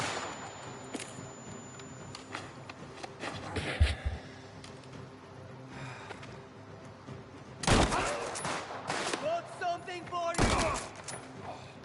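Gunfire and grenade explosions in the video game Mafia: The Old Country, rapid shots crackling in uneven volleys with a few heavier blasts, and a voice talking over the battle.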